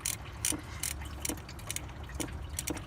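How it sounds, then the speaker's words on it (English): A ratchet works a bolt loose on a 2003-2007 Honda Accord thermostat housing, its quick clicking strokes repeating in short bursts over a low engine-bay rumble. "So I'm going to take one of the bolts out."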